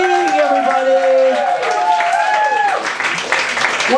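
Audience applause at an open mic comedy show swells under a host's loud voice and becomes a broad burst of clapping and crowd noise toward the end.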